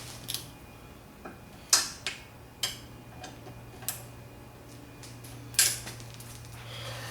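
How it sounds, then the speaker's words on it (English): Bolts on an engine crank assembly are tightened with a wrench, giving sparse, irregular sharp metallic clicks over a steady low hum, with no talking. "So we're just snugging these down and we'll go to the torque wrench."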